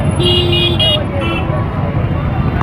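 Cars stuck in a road traffic jam honk in short toots and one longer blare over a constant engine and traffic rumble, close and loud, with a voice faintly underneath.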